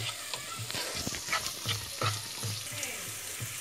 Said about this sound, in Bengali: এই টমেটোটা হালকা নরম হওয়া পর্যন্ত আমি নাড়তে থাকব